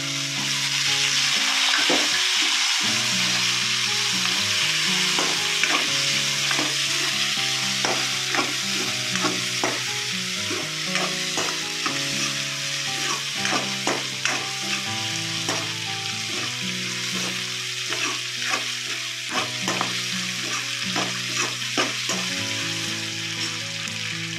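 Two chopped onions and six green chillies frying in a pan for a Telugu okra, egg and dried fish curry, with a constant close sizzle and repeated spatula scrapes and taps throughout.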